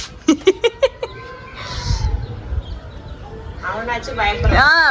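A cat meows several times: a burst of short, quick calls at the start, then longer, rising and falling meows near the end, close and fairly loud over rumbling background noise.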